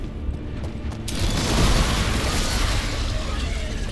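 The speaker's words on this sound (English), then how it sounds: "that was a satisfying explosion" A loud, sustained explosion in the video game Dragon Age: The Veilguard, with a deep rumbling blast that swells after about a second and keeps roaring to the end.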